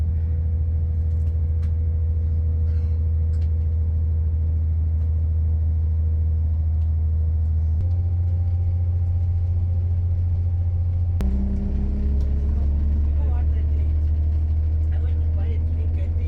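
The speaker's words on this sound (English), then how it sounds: "Now you gotta love that engine sound," Steady low diesel rumble of a train engine running on the Leeds–Harrogate line, droning continuously with a shift in pitch partway through as the engine changes note; a voice speaks briefly over it.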